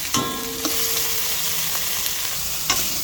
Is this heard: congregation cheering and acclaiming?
no